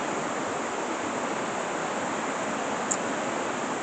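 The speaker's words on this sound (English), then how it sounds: "Can't beat the sounds, the soothing sounds of water." Steady rushing river water near Aira Force waterfall in Cumbria's Lake District, a continuous broadband roar with no pauses and no voices, holding even in level throughout.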